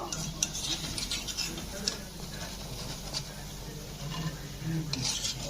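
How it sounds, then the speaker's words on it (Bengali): Soft clinks and scrapes of a utensil against a pan and plate as fried yogurt pakoras are lifted out and set down, light irregular taps at close range, fairly quiet, with a voice speaking briefly. "আমি এখন একটা প্লেটে তুলে নেব"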